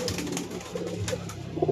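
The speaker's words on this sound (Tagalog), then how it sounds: "Di ko alam kung sino may-ari nitong kalapating to." A stray pigeon coos softly a few times nearby in a quiet outdoor setting.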